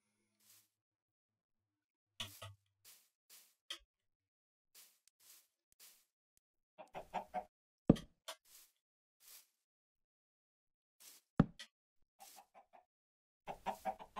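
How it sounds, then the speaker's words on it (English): A chicken in the video game Minecraft clucks in short scattered bursts at night, several separate close clucks with quiet gaps between them. "Oh, that chicken scared me for a second."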